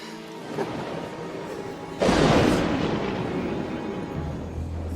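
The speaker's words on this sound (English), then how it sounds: "Thunder." A sudden heavy thunder crack bursts in about midway, then rolls on in a long rumbling decay over a steady background of rain.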